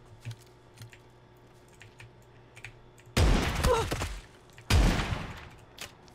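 Two loud, close gunshot bursts ring out from a weapon in the battle royale game PUBG, each followed by a short rattling tail, with faint clicking between them.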